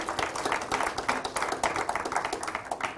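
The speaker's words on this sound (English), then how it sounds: "A round of applause for him." Audience applause at a Kenyan brands awards event, a dense, steady clatter of many hands clapping throughout, fairly close and even in loudness.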